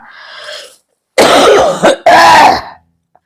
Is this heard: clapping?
no